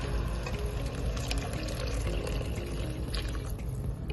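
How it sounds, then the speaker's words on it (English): Hot water poured from a cup into a cooking pot holding rice, meat and peas for ouzi, a steady continuous pouring wash lasting several seconds, fairly close and alone. "Add the 3 cups of hot water to the pot."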